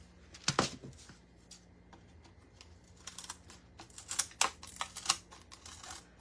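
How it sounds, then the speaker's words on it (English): Hart scissors snip through craft material in a series of sharp, close cuts, with one crisp burst early on and a quicker cluster of snips toward the end, over quiet room tone and with no voices. "I'm just using these Hart scissors, H-A-R-T"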